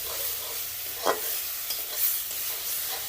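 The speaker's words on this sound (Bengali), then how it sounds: "এখন মশলার সাথে কুমড়োটাকে নাড়তে থাকবো।" Mashed pumpkin with chili powder and salt is stirred in a sizzling pan, a soft steady frying hiss broken by faint scrapes of the spoon, close and quiet with no talking.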